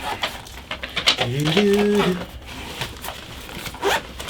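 A zipper runs along the side pocket of a board game backpack in one quick pull, close and fairly loud, with a few scuffs and handling noises around it.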